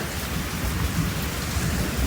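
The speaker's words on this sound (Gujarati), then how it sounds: "જોર વરસાદ આવે" Heavy rain pours down in a loud, dense, steady roar, with deep thunder rumbling underneath and no one speaking.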